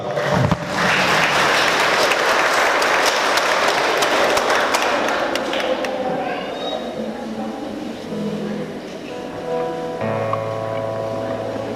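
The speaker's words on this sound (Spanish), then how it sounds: "les damos un aplauso fuerte, fuerte a esta nueva pareja." Loud applause for newlyweds at a wedding mass in Ameyaltepec: dense clapping fills the first six seconds, then thins and gives way to softer room sounds and a faint tone near the end.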